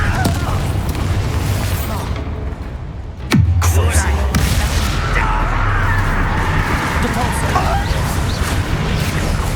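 Levioso and Confringo spells cast in the Hogwarts Legacy video game, with a sharp magical crack and a deep booming blast over dense, continuous game noise and voices throughout.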